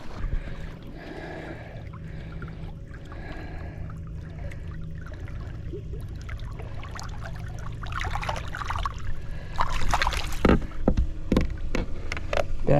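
A large striper is returned to Diamond Valley Reservoir, with a quiet stretch of lapping water and boat noise before a brief, loud splash near the end.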